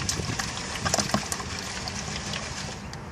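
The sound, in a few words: shaking a gold pan of water and gravel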